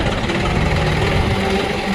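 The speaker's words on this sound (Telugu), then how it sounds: "ఈరోజైతే మనము ఇక్కడ మన్ను తోలుతున్నాం ట్రాక్టర్లో వేరే చేనికి" A tractor engine idles loudly and close by while soil is loaded for hauling to another field, giving a steady low rumble with rough, knocking vibration and no break.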